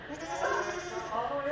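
Pregnant goat does bleat in a farm setting during an agriculture class ultrasound check, a drawn-out wavering cry that rises partway through, with voices in the background.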